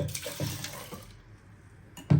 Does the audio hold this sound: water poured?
yes